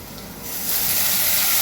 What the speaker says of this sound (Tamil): இப்போ இதில் வந்து நான் கோஸ் வச்சுருக்கேன். கோஸ் நான் போடுறேன்.